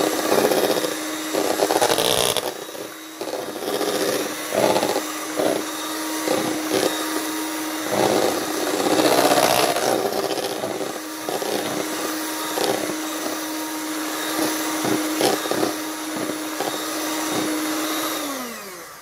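An electric mixer whirs steadily through cheesecake batter, a loud, continuous buzzing drone with small shifts in pitch and load as it churns, running alone without voices for the whole stretch.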